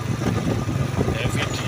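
Motorcycle engine revved hard, a loud, continuous rough roar with steady throttle pulses throughout, close by, with voices mixed in.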